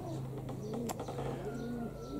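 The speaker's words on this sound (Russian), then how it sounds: "сейчас я покажу этого голубка моего молодого" A young pigeon coos softly in low, rolling phrases, close but quiet, with a steady background hum and a brief rustle partway through.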